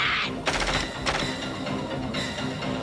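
Machine gun fire from the film The Blob, several sharp bursts of rapid shots in quick succession, loud and close, with a brief voice at the very start.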